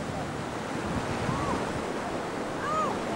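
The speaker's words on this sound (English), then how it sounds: "Here comes the waves." Pacific Ocean surf breaking in a steady broadband wash, with wind buffeting the microphone and swelling slightly toward the end.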